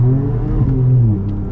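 A Ford Raptor pickup accelerates hard, its engine note a loud, close, rising roar over about a second and a half.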